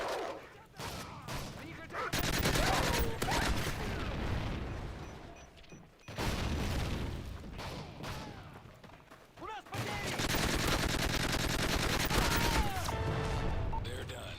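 Dense, sustained gunfire roars in Call of Duty MW3 Survival mode: long, loud bursts of rapid automatic shots and booms, broken by brief pauses, with muffled voices underneath.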